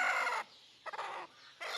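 A country hen sitting on her eggs gives short bursts of clucking, three close, moderately loud clusters separated by brief pauses.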